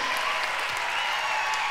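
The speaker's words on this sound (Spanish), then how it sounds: "Un aplauso para todos ellos." Audience applause at a live Christian music concert in Phoenix, Arizona, a dense, steady wash of clapping heard loud and continuous throughout with no pauses.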